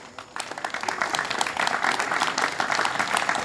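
Audience applause right after a boxing bout ends in a second-round technical knockout, a dense, steady clapping crowd close by that swells after a brief start and holds for several seconds.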